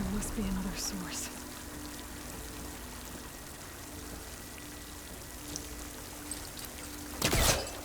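Steady pouring water from the video game Horizon Forbidden West, a continuous soft hiss like rain on a surface, with faint speech early and a brief louder splash near the end.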